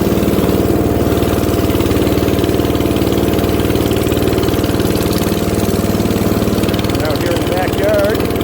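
A small diesel engine on a 1960s Terra Mite backhoe chugs loudly and steadily up close, with a voice partly buried beneath the rumble.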